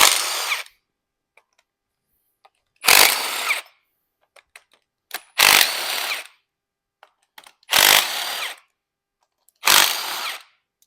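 An impact power tool removes the cylinder head bolts from a 6.0 Powerstroke diesel engine in five loud, close bursts of about a second each, separated by quiet pauses with faint clinks.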